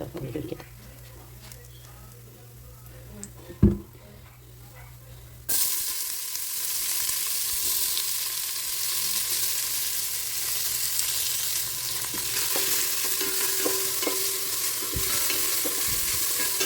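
Oil sizzles steadily as spices fry in a pan, the loud crackle starting abruptly after a quieter stretch with a faint clunk and continuing without a break.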